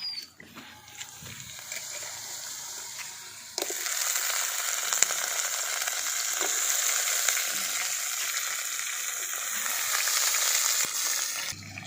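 Sliced ridge gourd going into a pan of lightly fried potatoes, with a steady close sizzle that jumps louder a few seconds in and keeps crackling evenly.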